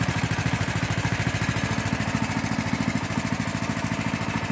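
Small motor-cultivator engine driving a homemade rack log splitter, running continuously with a fast, even chugging pulse, loud and close, no talking.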